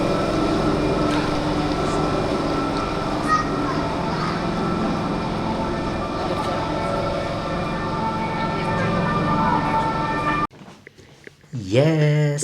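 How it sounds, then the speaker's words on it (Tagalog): A Swiss passenger train running steadily, a continuous close rumble and hum that cuts off abruptly near the end, followed by brief voices. "Here is the train."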